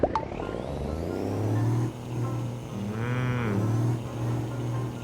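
A Hino 700 truck engine in Euro Truck Simulator 2 drones low and steady throughout, in first gear, with a brief higher tonal sweep midway; no talking over it.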